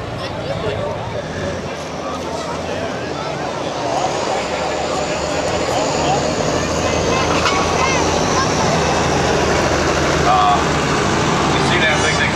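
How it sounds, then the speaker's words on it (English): Big-rig tractor pulling truck running hard on a dirt track at a motorsports park, a loud, continuous engine roar that builds and holds steady throughout, with crowd or announcer voices faint beneath. "Pull off tractor on the track."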